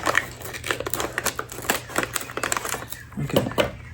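Scissors snip and crinkle through a plastic Korean snack bag, a run of close, sharp clicks and rustles that is uneven and struggling, with a bit of faint talk.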